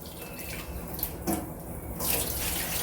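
Tap water runs into a kitchen sink while orange lentils are rinsed, a steady close splashing stream with brief surges of sloshing.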